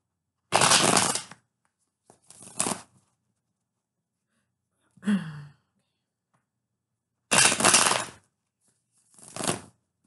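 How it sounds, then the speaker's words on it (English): Several bursts of riffling tarot card shuffles, close and crisp, separated by short pauses; a soft breathy sound falls between them. "2 more shuffles and we're good for the work read."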